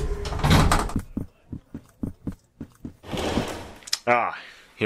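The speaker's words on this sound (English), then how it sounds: "Hey, get the door." An animated Minecraft door sounds with a series of short wooden clunks and thuds in a quiet space, while voices speak before and after.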